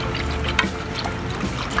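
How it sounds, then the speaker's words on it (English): Milk pours into a roux as it is whisked, giving a short, soft liquid trickle and pour with light clinks of the whisk against the pan. "So now you add your milk, and you're supposed to whisk at the same time"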